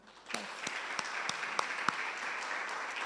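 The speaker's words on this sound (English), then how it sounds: "Can you please give Doc a round of applause" An audience at a community dialogue on white supremacy breaks into applause, starting quickly and settling into a moderate even clatter with a few distinct louder claps, fairly distant and without talk.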